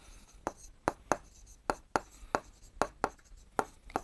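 Chalk or marker tapping and writing on a board or sheet, a steady series of about a dozen sharp, evenly spaced taps, close and clear with no voices.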